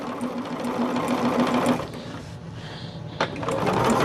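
A sewing machine stitches a picnic caddy in fast, steady bursts, pausing briefly midway before running again, close and loud with no talking.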